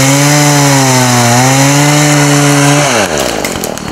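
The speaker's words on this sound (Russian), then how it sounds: "После этого лесник включает бензопилу и приступает к делу." A forester's gasoline chainsaw runs loud and steady at high revs while cutting into a tree trunk, then the engine note drops and shifts near the end as the cut changes.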